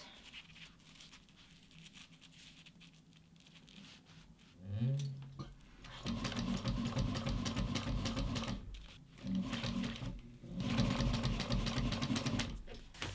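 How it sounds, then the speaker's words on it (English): A Juki 1541S industrial leather sewing machine bastes nylon along an edge with an eighth-inch seam, starting after a quiet moment and then running in loud, steady stretches of rhythmic stitching with brief pauses. "I'm just going to baste these on along the edge"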